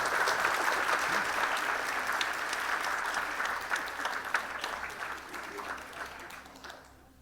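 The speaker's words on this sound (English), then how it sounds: "Shall we give him a little round of applause when he comes in, just so he knows?" Sustained audience applause at a live performance, dense and steady, fading toward the end as the clapping dies away.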